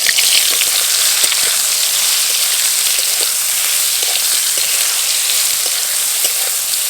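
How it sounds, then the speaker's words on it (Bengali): Big soya chunks fry in oil in a kadai with a steady, loud, dense sizzle like heavy rain, continuous and close throughout with scattered small pops. "তেলের মধ্যে সোয়াবিনগুলো দিয়ে এবার ভেজে নেব।"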